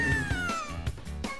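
A video game cat character gives a long, drawn-out meow with a falling pitch, clear and fairly close, followed by softer short game sounds.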